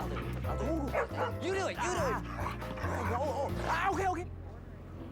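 A dog barks, yips and whimpers repeatedly at close range in a series of excited high cries, mixed with people talking and a low background hum.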